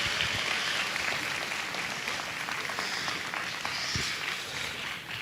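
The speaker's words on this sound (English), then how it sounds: "Let's give these three young men a round of applause" At a Texas Elite livestock showcase, an audience applauds three young Berkshire exhibitors with steady, dense clapping of moderate loudness throughout, heard from within the crowd with a few footstep-like thumps.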